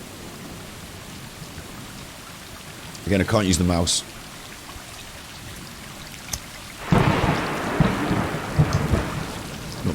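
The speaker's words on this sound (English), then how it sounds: "Oh, it's raining." Rain hisses steadily in the video game Stray, with a louder burst of downpour or thunder rumble near the end. A voice speaks briefly in between.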